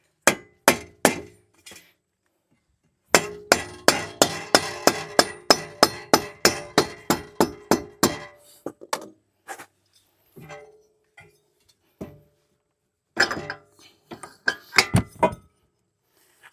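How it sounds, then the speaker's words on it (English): Sharp metallic strikes of a rubber hammer knocking an axle out of a Toyota RAV4, a steady run of evenly spaced blows, then scattered knocks and a short final flurry. "always use a rubber hammer for that one"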